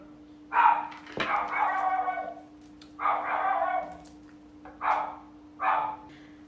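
A female dog barks nearby in a run of five short, separate bursts at uneven intervals, moderately loud over a faint steady hum.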